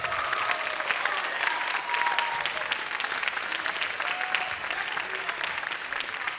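Dense, sustained audience applause in a school auditorium after a high school choral performance, many hands clapping evenly with a few faint cheers and whistles mixed in.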